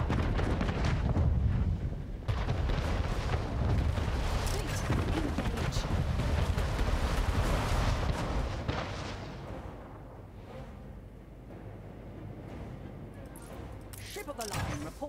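Naval cannons blast from ships during a sea battle in Anno 1800, a dense barrage of booming shots and explosions packed close together, easing off into scattered, quieter bangs toward the end.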